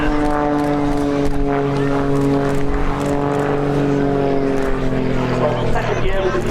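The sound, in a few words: propeller aircraft flying an inverted pass at air show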